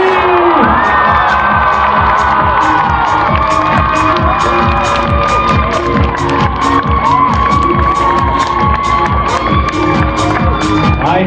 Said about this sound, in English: give them the biggest, loudest round of applause in the world.